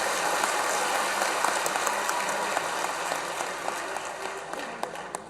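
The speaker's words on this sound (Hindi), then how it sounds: "और सब जोरदार ताली बजा के स्वागत करें।" A crowd at a village birthday celebration in Jait claps vigorously to welcome guests, producing continuous, dense applause throughout.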